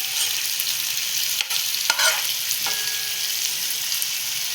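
Cooked jackfruit vegetable being stirred into frying jackfruit biryani, a strong steady sizzle with a few spoon scrapes and knocks against the pot.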